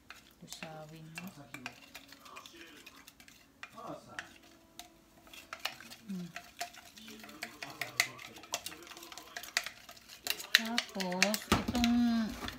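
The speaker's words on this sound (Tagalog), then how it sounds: "Haluin natin mabuti. Lusawin mo." Slime mixture stirred in a bowl, with scraping, clinking stir strokes running throughout, moderately close, under intermittent talking.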